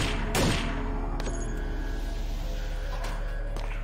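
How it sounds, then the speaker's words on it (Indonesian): Gunfire in an SCP video game: a few sharp shots stand out over a steady, loud in-game background rumble, with no talking. "Oke, tembak di mana-mana."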